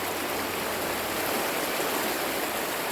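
Stream water rushes past a wall built along the bank of a nala at a picnic spot, a close, steady, full hiss of flowing water, alone, without talk.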